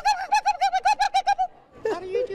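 A person vocally imitates a turkey gobble: a fast run of about eleven evenly spaced warbling yelps, then a short pause and a lower drawn-out wavering call, close and loud.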